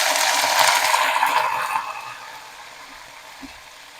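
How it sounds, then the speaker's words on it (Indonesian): Fish, anchovies for a sour and spicy stir-fried soup, frying in a pan, giving a loud, steady sizzle that softens and fades after a couple of seconds, with no talking. "Nah sebelah sini goreng ikannya ya teman-teman."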